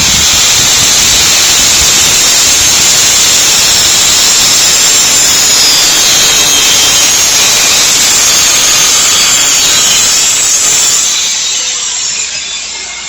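Metal pieces are cut at 45-degree angles for welding, a loud, continuous harsh hiss and grinding roar of the cut filling the space close by, fading slightly near the end, with no voices.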